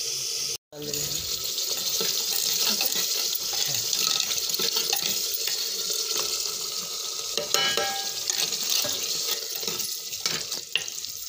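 Water runs steadily into a clay cooking pot of spiced lotus-stem curry, a continuous splashing and hissing pour lasting several seconds with faint clinks, after a brief break near the start.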